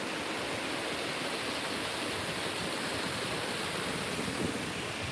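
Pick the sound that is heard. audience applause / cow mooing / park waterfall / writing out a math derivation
park waterfall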